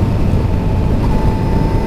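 A 2019 Kawasaki Z900 with a 948 cc four-cylinder engine being ridden, giving a loud, steady engine drone with a sustained tone and heavy low rumble, no talk over it.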